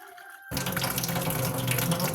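Tap water suddenly starts gushing into a pot being refilled, a loud, steady splashing stream that carries on without pause after a brief quiet start.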